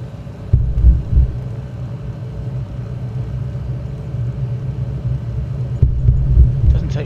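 A small aircraft taking off from Lands End Airport in very high wind, with a steady loud engine drone and rumble throughout, swelling at the start and near the end, close and continuous with no talk.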